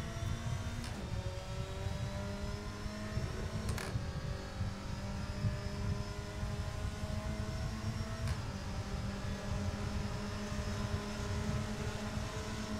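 A race car in the GT Sport video game drives at a sustained, steady engine drone through a race, with brief clicks or shifts here and there. The engine plays alone with no voices.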